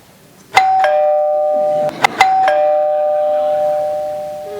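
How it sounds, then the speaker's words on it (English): Doorbell chimes at a castle gate in a Purim play: several clear, ringing bell tones struck in quick succession, with long sustained decays overlapping and fading slowly, loud and close with no talk. "I keep hearing these crazy chiming sounds. It's a doorbell."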